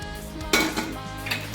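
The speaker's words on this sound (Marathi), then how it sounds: "भाताला सारखं असं हलवत राहायचं." A metal spoon scrapes and knocks against a cooking pot while rice is stirred for chicken biryani over a high gas flame, giving a few sharp clinks and scrapes up close over a faint background hiss.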